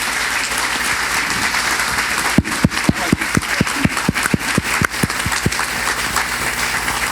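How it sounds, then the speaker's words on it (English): Audience at an end-of-year Utsav event breaks into a round of applause, a dense steady wash of many hands clapping through the whole stretch, with a few sharp louder claps standing out near the middle. "I would want all the audience to please give a big round of applause for Sriram."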